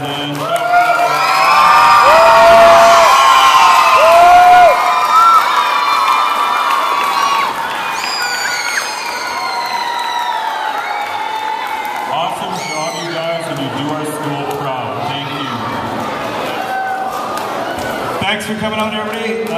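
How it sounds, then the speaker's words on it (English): A school crowd at a final rock band concert cheers, whoops and claps loudly. Children shout throughout, and the noise stays strong as the crowd mixes with chatter. "So I would like you to give one last big round of applause and"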